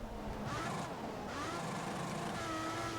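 Formula 1 car engines from the F1 2014 racing game at the Hungaroring, a steady high-revving drone with rising and falling pitch as cars race close by, continuous and loud throughout.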